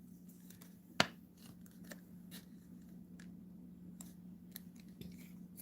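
Sports card sliding into a rigid plastic card saver holder, a sharp scrape and click near the start followed by soft intermittent plastic rubs and taps, faint and close in a quiet room with a low steady hum.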